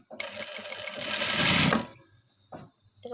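A sewing machine stitching a strip onto a blouse, one loud close whirring run of about a second and a half that stops abruptly, followed by quieter handling clicks.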